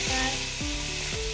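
Tomato hitting a hot frying pan with onion and potato for khichdi, giving a steady close broadband sizzle with a few scraping stirs sweeping through it, and no voices.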